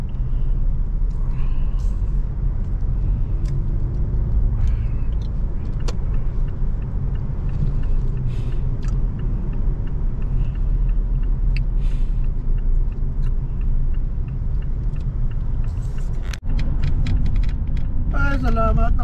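Heavy expressway traffic near an accident, heard from inside a moving vehicle as a constant low engine and road rumble with occasional clicks, a brief hiss, and faint voices near the end.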